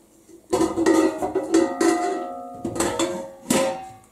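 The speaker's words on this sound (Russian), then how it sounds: "И также крышечкой закрываем." A metal lid set onto a frying pan while flatbreads cook, giving clattering clanks and a ringing metallic resonance, several knocks and a scrape close by with no talk.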